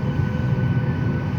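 An airplane taxis onto the runway before takeoff, a steady, moderately loud engine drone with low rumble and a faint high whine, continuous and without speech.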